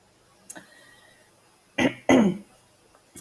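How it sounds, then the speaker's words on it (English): Two distinct coughs from one person, close and fairly loud, sounding near the two-second mark after a faint earlier sound, with quiet room tone in between and no talking. "sorry about my coughing"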